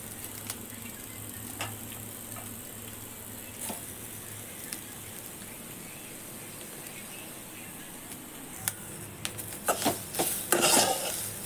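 Soya chunks roast in a pan, a faint steady sizzle and hiss with occasional stirring scrapes, then a burst of louder clattering utensil knocks near the end.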